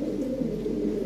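A pair of big fancy pigeons cooing softly nearby, a low continuous throaty murmur.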